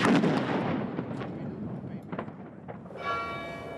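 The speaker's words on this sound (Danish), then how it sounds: "prins Henriks død markeret med en sørgesalut på 81 skud" A cannon at Kronborg Castle in Helsingør fires during an 81-shot mourning salute, a heavy booming blast rolling out with a long echoing decay, followed by a distant bell ringing near the end.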